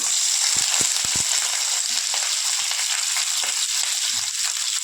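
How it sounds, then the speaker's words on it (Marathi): Curry leaves crackle and sizzle in hot rice bran oil in a pan, a steady, close hiss with a few sharp pops near the start. "आता आपण पहिल्यांदा तेल टाकूया मी राईसच तेल घेते आहे थोडंसं तेल आपल्याला जास्त घ्यायचं कारण भाज्या आपल्याला त्याच्यामध्ये टॉस करून घ्यायच्या आहेत तर पहिल्यांदा मी कढीपत्ता टाकते"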